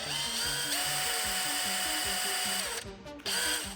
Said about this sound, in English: run your drill counterclockwise